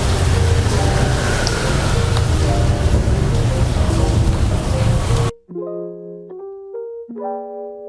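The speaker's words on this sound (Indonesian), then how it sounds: "di luar lagi hujan nih" Rain falls steadily outside as a dense, loud broadband hiss that fills the first five seconds, then cuts away to quiet sustained tonal music.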